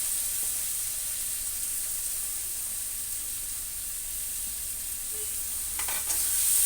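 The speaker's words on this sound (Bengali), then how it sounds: "ডালটা দিয়েও নাড়াচাড়া করে নেব" Masoor dal with turmeric and salt being stirred in a hot pan, a steady frying sizzle and hiss with light scraping of the spoon, continuous and close, a brief clatter near the end, no talk.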